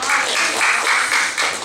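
Korean church congregation at a Sunday service giving a round of applause, a brief, close burst of many hands clapping with a rhythmic pulse.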